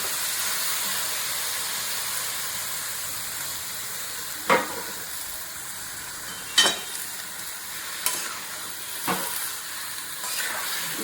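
Chopped Malabar spinach stalks and prawns sizzle in a pan with a steady hiss, while a few sharp scrapes of a utensil mark the stirring at uneven intervals; nobody speaks.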